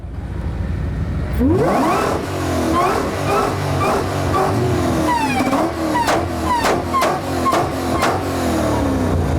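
A Ford Mustang engine revs hard at a supercar show, rising through loud, sustained roaring sweeps with sharp pops and crackles near the end, close by amid background crowd noise.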